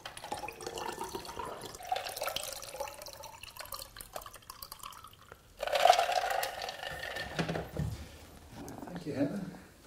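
Elderflower cordial poured with ice and water into three glasses, with liquid splashing and trickling near and clear, stopping and starting, while people talk over it.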